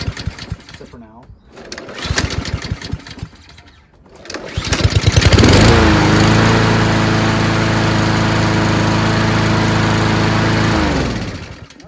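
Troy-Bilt TB240 self-propelled lawn mower with a Honda engine, pulled and started, then running steadily and loud up close for several seconds before cutting off, with someone talking over the start.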